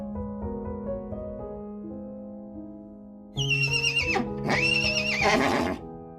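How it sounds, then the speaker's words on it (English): An Icelandic horse, a small, hardy breed, whinnies loudly and close by. A long, tremulous neigh rises into a shrill, wavering call, with faint hoof clops underneath. "The Icelandic horse is a unique breed, known for its small stature and 5 gaits."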